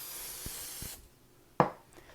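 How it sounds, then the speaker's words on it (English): Nonstick cooking spray hisses onto the bottom of a sheet tray in a steady close burst lasting about a second, followed by a brief knock of the can. "I'm actually going to spray the bottom of the sheet tray with some nonstick spray."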